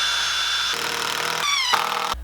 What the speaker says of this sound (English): it's a good idea if we can pre-drill those holes so there's very little chance of it cracking